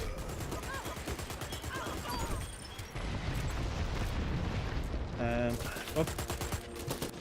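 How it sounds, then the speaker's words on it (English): Rapid automatic gunfire rattles close and loud in the shooter game Dirty Bomb, in fast bursts with a few heavier impacts, and a voice exclaims briefly over it. "Why are you shooting me?"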